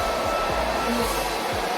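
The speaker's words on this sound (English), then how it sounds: "I've used the bonnet dryer" A bonnet hair dryer runs as a steady, loud, close whooshing hum with a low motor drone underneath, unbroken throughout.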